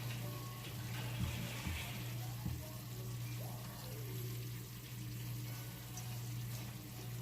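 Broth pours into a pan of garlic chicken thighs cooking in honey garlic sauce, a soft, steady liquid splash with a gentle sizzle and low hum underneath, quiet and close.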